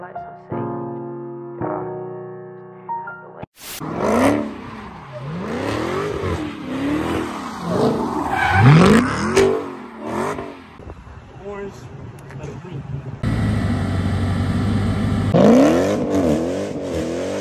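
Dodge Hellcat rumbling and revving hard in rush-hour traffic, with repeated rising engine sweeps and a loud sustained roar near the end, some voices over it.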